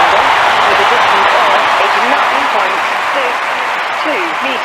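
Dense stadium applause and cheering from a large crowd at the London 2012 Olympics, sustained and loud after a javelin throw, with brief voices rising over the roar.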